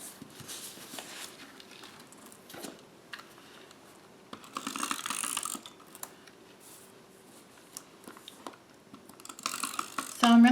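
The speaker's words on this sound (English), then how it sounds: "So I'm going to bring in a tape runner." Faint clicks and ticks from a tape runner laying adhesive on a paper card, scattered light mechanical taps with a brief louder rattle near the end in a quiet room.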